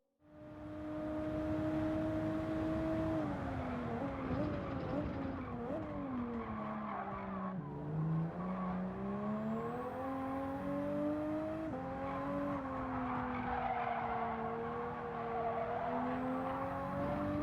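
A race car in Gran Turismo 7, set up with fully stiff roll bars, revs at high pitch through a sector while its tires squeal and slide, engine note rising and falling with gear changes, loud and continuous.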